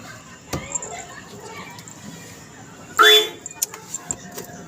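A car horn gives one loud, sustained toot, with a few softer beeps and clicks after it, over quiet outdoor background.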